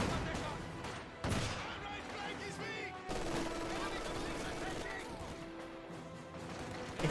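An MG-34 machine gun rattles in Company of Heroes 2 amid a busy wartime battlefield, with sustained bursts of fire and sharp crashes layered over a dense mix of game sound and voices.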